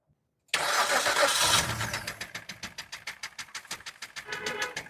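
Petrol car engine cranking and catching right after a fuel filter change, a loud burst settling into a rough, pulsing idle with rapid rhythmic beats, close by.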